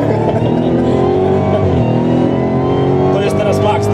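A car engine revs hard at full throttle, a loud steady roar with rising harmonic tones held throughout, heard from inside the vehicle.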